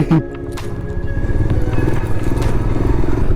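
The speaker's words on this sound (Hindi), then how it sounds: "और बाइक चालू हो गई।" A motorcycle engine runs loud and close on a rough off-road track in Spiti Valley, its rattling, uneven idle mixed with scraping and crunching of gravel.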